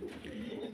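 A fancy pigeon at a farm in Faridpur gives a soft, low cooing call, brief and close, against a faint background.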